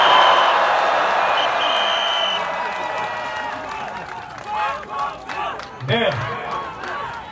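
Crowd of citizens and party members applauding and cheering at an outdoor political protest rally, a broad wash of clapping that fades as an amplified speaker's voice comes in over it.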